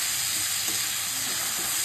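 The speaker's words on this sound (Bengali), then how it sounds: "দিয়ে আলু দিয়ে পেঁয়াজ দিয়ে ভাজা করবো" Potato and onion frying in a pan, a dense, loud, continuous sizzle heard up close with no pause and no voices.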